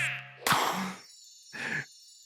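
Short chiming item jingle from The Legend of Zelda: Breath of the Wild, two bright bursts about a second apart, fairly loud with no talk over it.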